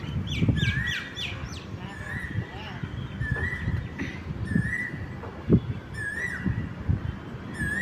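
A house crow in a sunshade gives repeated short calls, answered by other chirping birds nearby, while a person talks through much of it and occasional clopping thumps sound in the background.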